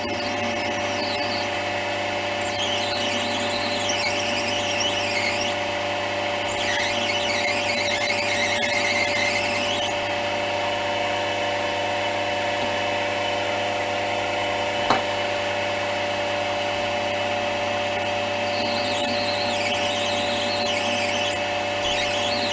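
A small high-pitched drill whines in repeated bursts of several seconds each, separated by pauses, over a constant mechanical hum, boring a hole for a saddle for an anniversary clock.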